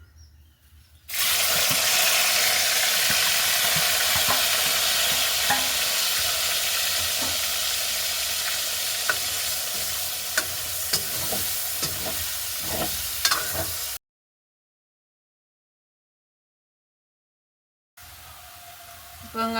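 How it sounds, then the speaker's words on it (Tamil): Raw plantain deep-fries in oil, a loud, continuous bubbling sizzle with occasional crackles that runs for several seconds, cuts to silence, then returns faintly. "அடுத்ததாக வாழைக்காயை பொரிச்சு எடுக்க போகிறோம்"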